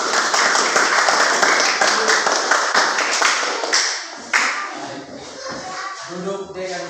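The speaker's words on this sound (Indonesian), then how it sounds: "Mari kita tepuk tangan untuk kelompok 3." Classroom applause for a student group in an Indonesian school lesson: dense, steady clapping from many children for about four seconds, then fading into scattered claps and nearby chatter.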